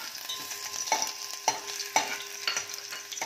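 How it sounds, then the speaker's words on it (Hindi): Ginger fries in hot oil in a home kitchen, a light sizzle broken by regular sharp spatula scrapes and taps about every half second, close up with no voices. "तेल साडा गर्म हो गया, तो अदरक असी इहदे च थोड़ा जिहा फ्राई करांगे"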